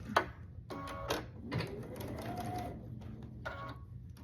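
A sewing machine runs a quarter-inch seam across a quilt block piece, a steady buzzing run of about two seconds following a short voice, with a little talk around it.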